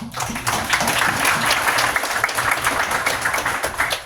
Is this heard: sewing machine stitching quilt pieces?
no